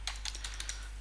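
Quick bursts of keystrokes on a computer keyboard as an IP address is typed, faint and close, a short run of about a half-dozen clicks.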